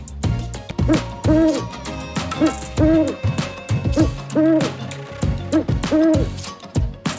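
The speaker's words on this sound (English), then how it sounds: "This is Owl." Repeated owl hoots, each a soft hollow two-part call, sounding about every second and a half over a low musical backing.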